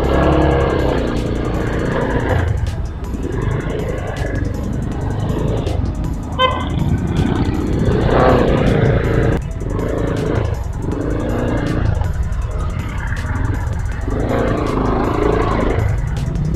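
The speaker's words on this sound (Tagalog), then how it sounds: "Traffic na sa Taytay." Road traffic in Taytay heard from a Z200X motorcycle: a steady, loud engine drone with wind and passing vehicles, a brief horn toot partway through, and faint voices at times.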